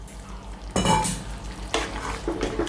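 Okra is tipped into a simmering chicken and black-eyed pea stew and stirred, with bursts of sizzling and bubbling plus a spoon scraping the pot in several separate strokes, close up and with no talk.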